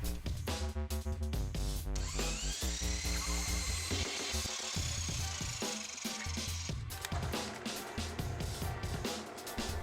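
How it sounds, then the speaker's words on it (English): A drill press with a 1-inch Forstner bit boring through wooden uprights for a child's tool box, a loud, steady whine with grinding bite and a high tonal squeal through the middle, continuous for the whole stretch. "Went over the drill press, took a 1-inch Forstner bit, and cut through both of the uprights."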